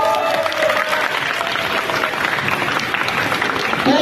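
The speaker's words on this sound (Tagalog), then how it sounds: "Palakpak." Loud, dense clapping from a group at an emergency response training seminar in Quezon Province, Philippines, sustained and close with some crowd noise mixed in.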